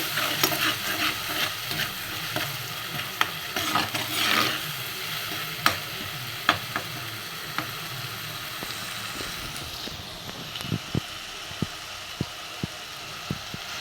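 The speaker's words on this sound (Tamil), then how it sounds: "தக்காளி சேர்த்தாச்சு நல்லா வதங்கிட்டுருக்கு" Tomatoes sautéing in a pan for a Tamil stingray fish curry, a steady sizzle broken by scattered sharp stirring clicks and taps, with no talking.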